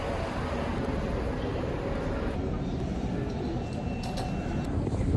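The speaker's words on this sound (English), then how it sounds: "So we're taking literally that train." A steady low rumble of a moving train fills the space, with constant rolling noise and faint high squeals.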